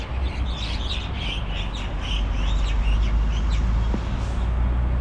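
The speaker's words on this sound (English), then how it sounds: "birds are making it a home." Birds chirping in the trees along Rua das Árvores do Pagode in Coloane, Macau, with scattered high calls over a constant loud street rumble.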